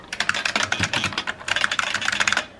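Rapid, dense keystrokes on a cleaned-up vintage IBM Model F keyboard, two quick bursts of clicky typing close to the mic with a brief pause between them and no voices.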